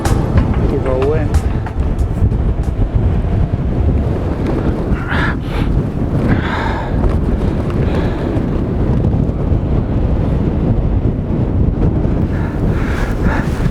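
Strong wind buffeting the microphone on a cliff top at Lulworth Cove, a loud continuous roaring rumble throughout, with faint surf underneath and no clear talk.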